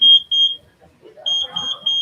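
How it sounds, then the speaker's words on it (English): An electronic object sensor at a STEM expo gives short, loud high-pitched beeps, three quick ones, a pause with faint voices in the background, then a further run of four or five beeps. "See, it beeps 3 times because it senses an object."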